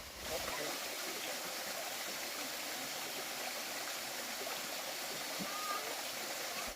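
Steady, dense rush of falling water from a waterfall in a forest canyon in Malivtsi, Ukraine, a continuous broadband roar with no breaks, heard from nearby.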